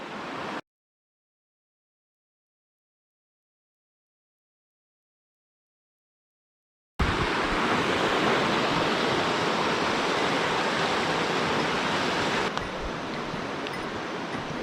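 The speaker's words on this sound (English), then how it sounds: "Beautiful river." A river rushes beneath a footbridge in a mountain wilderness, a steady broadband roar of flowing water heard close and loud after a long stretch of silence, continuing without talk to the end.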